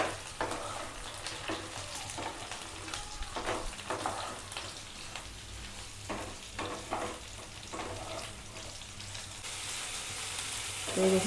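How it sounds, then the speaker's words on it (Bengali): Sliced ridge gourd and potatoes fry in oil in a pan, making a close, continuous hiss and sizzle with intermittent stirring scrapes and crackles, with no voices. "ঝিঙের সঙ্গে এবারে একটু ভালো করে ভেজে নেব।"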